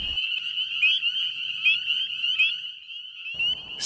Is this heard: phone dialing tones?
no